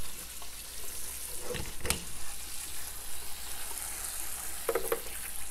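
Hawthorn berries rinsed under running water make a soft, steady trickle and splash, with a couple of louder sharp clatters of handling partway through.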